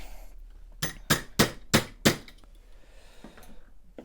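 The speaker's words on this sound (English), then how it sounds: "So I'm kind of lifting this while I'm hammering it," Five sharp hammer blows strike metal wire on a desk, evenly spaced and loud, with a faint metallic ring after each and quiet room tone between.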